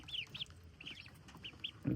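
Faint, high peeping calls of young goslings repeating in quick, irregular chirps over a quiet background, ending with a louder knock.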